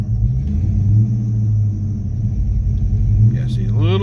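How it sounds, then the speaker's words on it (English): A 1995 Ford Mustang GT V8 idles with a deep steady rumble and a slight rev, sounding a little boggy, close by while someone talks. "yeah, see, a little boggy there. It'll rev up fine."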